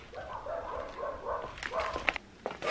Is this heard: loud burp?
no